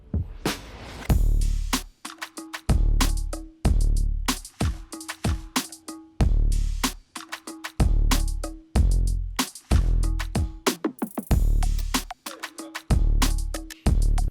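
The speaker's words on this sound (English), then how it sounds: "It's just an 808 drums and essentially just like a saxophone," Sparse 808 electronic drum pattern with punchy booming kicks and crisp hits, layered with short saxophone-like stabs repeating in a loose loop.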